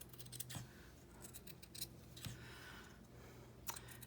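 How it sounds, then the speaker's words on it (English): Scissors snip through the paper cover of a handmade bee-themed journal in several quiet, separate cuts spread across a few seconds, with small clicks of the blades between them and no voices. "So now I'm just going to come back with my scissors."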